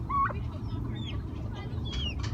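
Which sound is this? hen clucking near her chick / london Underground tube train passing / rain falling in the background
hen clucking near her chick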